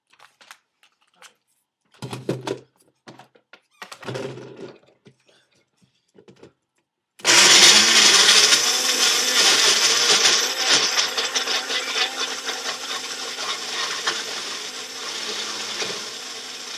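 A portable blender blends a smoothie: after some soft clicks and handling knocks, the motor starts abruptly and runs as a loud, steady whir with rattling, easing slightly in loudness toward the end.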